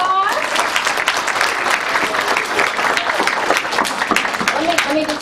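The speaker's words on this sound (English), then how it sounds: "Give yourselves a round of applause" An audience at a Library of Virginia book talk applauds itself, loud sustained clapping with some cheering and voices mixed in throughout.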